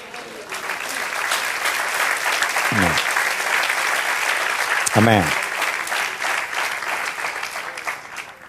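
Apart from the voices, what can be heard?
congregation applauding in church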